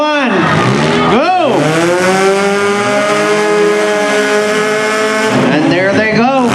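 Demolition derby cars roar off together on a figure 8 track, engines revving hard and rising in pitch as they accelerate, loud and close, with an announcer calling the race over them.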